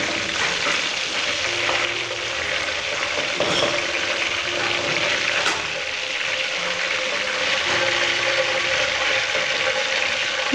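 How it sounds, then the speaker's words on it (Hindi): Kofta meatballs for biryani frying in hot oil, a loud continuous dense sizzle with a faint clink of a utensil, close up and steady throughout with no talking. "अब इसी तरह दूसरे भी फ्राई कर लेंगे।"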